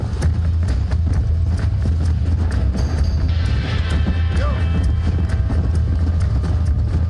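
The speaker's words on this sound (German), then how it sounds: "Mein Pferd kann ja auch noch schneller reiten." Galloping horse hooves in the Red Dead Redemption video game, a steady, fast clip-clop running throughout over a dense, continuous game soundscape.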